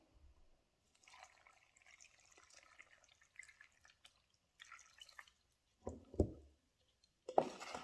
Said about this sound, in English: I measured a cup of water in this bowl. I'm going to pour it in there.